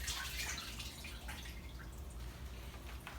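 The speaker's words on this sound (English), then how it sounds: "I'm gonna drain the water from my vegetables." Water draining off freshly washed vegetables such as thyme and parsley while making a meatless black bean stew, a steady close splashing and trickling stream that runs for the whole stretch without any talk.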